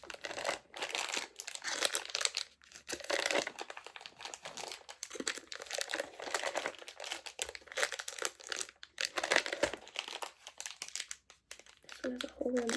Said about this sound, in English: hopefully you liked the rustling plastic noise